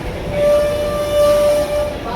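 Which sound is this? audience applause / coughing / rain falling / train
train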